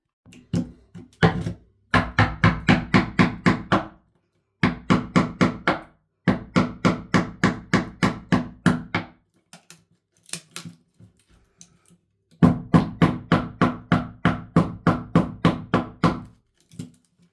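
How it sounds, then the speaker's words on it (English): Steady rhythmic hammer taps on a chisel biting into wood while cutting a model railway canal, in long runs of sharp evenly spaced strikes separated by brief pauses. "digging in and tapping the hammer, chiseling the wood out into there"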